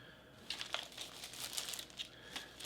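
A small plastic bag from a Portuguese Army 24-hour ration pack crinkles faintly in close-up, soft rustling with a few sharper crackles, alone with no talk.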